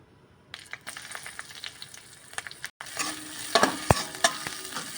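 Vegetables fry in a pan with a quiet sizzle that swells louder partway through, broken by scattered clinks and scrapes of stirring, no voices.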